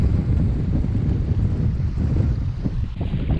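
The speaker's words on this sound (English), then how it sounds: "This is when we have a lot of wind coming through here." Wind gusts of about 15 to 17 mph buffet the microphone in a continuous rough roar, with gusty rumbling swells and a hint of splashing water beneath, at the Guana Tolomato Matanzas preserve in St. Augustine, Florida.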